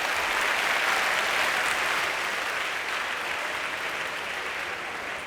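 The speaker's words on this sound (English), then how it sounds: "So please give them a round of applause." A high school assembly audience gives a sustained round of applause in a large hall, dense continuous clapping that stays loud and slowly eases off toward the end.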